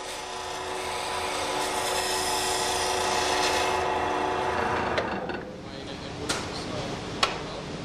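A steady, rasping scrape of a chisel against wood spinning on a lathe fills the first five seconds, then eases off into lighter scrapes and a few sharp clicks.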